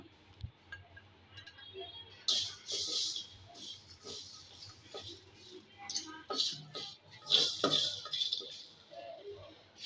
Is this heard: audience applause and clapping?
no